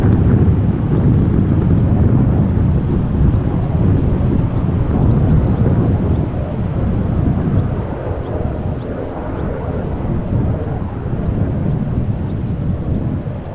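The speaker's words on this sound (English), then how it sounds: "Now that helicopter is even a bit closer by, even audible." A patrolling helicopter drones overhead near Amsterdam Schiphol Airport as a loud, steady low rumble, with wind gusting against the microphone; nobody talks.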